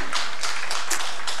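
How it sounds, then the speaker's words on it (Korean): A Korean church congregation claps during an online-streamed worship service, a dense, steady burst of hands that fills the room briefly. "우리 하나님께 영광의 박수를 돌립니다"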